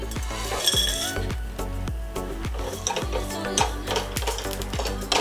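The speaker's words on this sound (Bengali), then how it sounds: "আমি এই বিরিয়ানি মশলাগুলোকে নিই কড়াইয়ের মধ্যে, আর এটাকে আমরা খানিকটা হালকা আঁচে রোস্ট করে নেব" Whole biryani spices dry-roasting over low heat in a wok, stirred with a utensil that scrapes and clinks against the metal in a quick repeated rhythm, close and fairly loud, with no talking.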